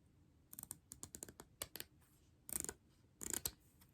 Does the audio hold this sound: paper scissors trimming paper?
yes